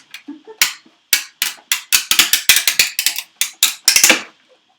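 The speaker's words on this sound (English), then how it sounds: "we're going to get all of these sentiments out with one mighty roll of the cut and emboss machine" A series of sharp cracks and crinkling snaps as a cut and emboss machine rolls through, die-cutting paper sentiments, irregular bursts close up with no talking.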